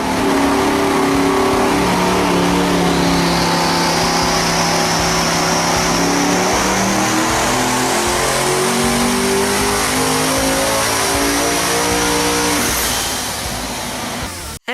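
A Devel Sixteen's 12.3-litre billet-aluminium quad-turbo V16 revs hard and loud, its pitch climbing and falling in long sustained sweeps with a turbo whine above, close and continuous with no talk.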